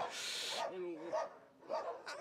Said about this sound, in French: Oui, c'est un chien énergique, non Brutus.